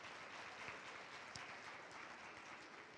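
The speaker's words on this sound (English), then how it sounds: "Give yourselves a round of applause." Steady applause from an audience at a university awards celebration, dense and even for a few seconds, fairly faint and distant with no talking over it.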